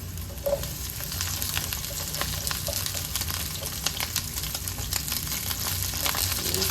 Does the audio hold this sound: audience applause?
no